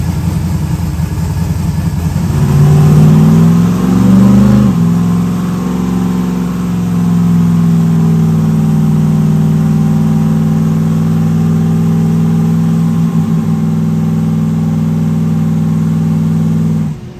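Turbocharged car engine revving on a dyno during street tuning, a loud sustained engine drone that climbs in pitch over the first few seconds, then settles into a steady held tone for the rest, with no talking.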